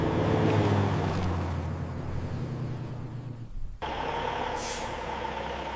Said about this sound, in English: The trucks arrive at our plant and line up at the intake bays.